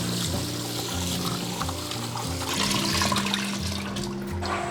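Soaked beef short ribs are rinsed in water, with sloshing and pouring water beneath background music.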